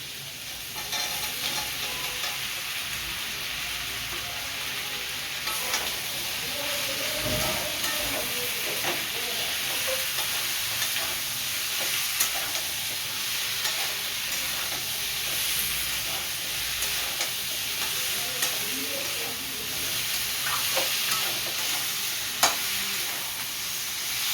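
Malabar spinach hits a pan of frying, spice-coated potato and pumpkin, giving a steady close sizzle and hiss with scattered stirring scrapes and a small clink near the end, no talk.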